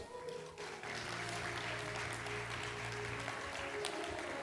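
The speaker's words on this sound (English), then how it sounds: "Can we get a warm round of applause for Miss Lisa Ouma?" A panel audience at a Kenyan diplomacy dialogue event claps steadily for an incoming participant, a moderately quiet, even wash of hands that swells after a brief dip near the start and holds to the end.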